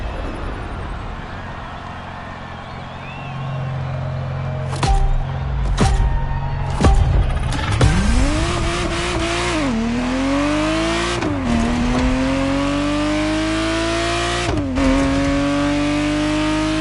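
Ferrari Testarossa engine in The Crew Motorfest racing game, revving up through rising pitches with repeated gear shifts and brief cuts, loud and close with no talking.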